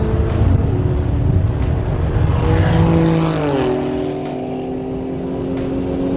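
A Nissan GT-R with a loud exhaust drives along, its engine droning steadily close by with a pitch that shifts down midway and then holds at a lower, quieter level.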